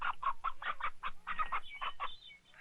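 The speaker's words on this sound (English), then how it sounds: "Sometimes we feed corn to chickens." Chickens, shown on a 1966 film soundtrack, cluck in a quick, even series of about a dozen distinct calls before trailing off near the end. They are close and fairly clear, with no voices over them.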